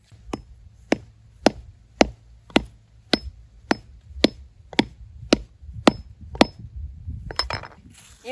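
Hard nuts being cracked open one after another, eleven sharp, evenly spaced cracks about half a second apart, loud and close, with light rustling at the end and no talking.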